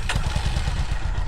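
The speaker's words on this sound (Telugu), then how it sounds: "మళ్ళీ ఒకసారి ఎగ్జాస్ట్ ఒకసారి సౌండ్ వినండి ఎలా ఉంటుందో." A Honda CB350 DLX Pro motorcycle's exhaust thumps close by at a steady idle, with an even, rapid low pulse and no voices.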